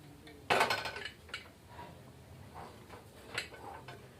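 A sharp metallic clank as a pressure cooker is set down on a gas stove, followed by softer knocks and faint rattles in a quiet room.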